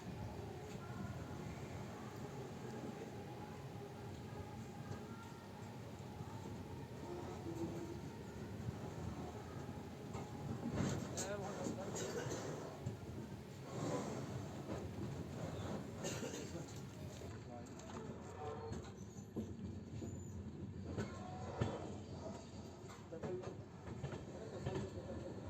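Indian passenger train rolling on after leaving Godhra station, India, on the Itarsi to Veraval route: a continuous heavy rumble of wheels and carriages with rattling bursts, steady and close throughout.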